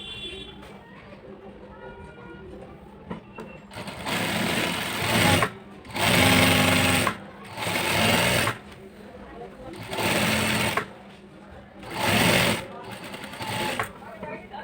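A sewing machine stitches the back panel of palazzo trousers in five or six loud, steady bursts with short pauses between them. Someone speaks throughout, quietly before the stitching begins and under the machine once it runs.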